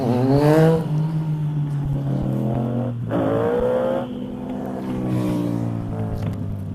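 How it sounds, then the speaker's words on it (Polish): A loud motorcycle exhaust revs hard, rising and falling in pitch through several throttle bursts, close by and dominating. "Ale huk tutaj od tych tłumików."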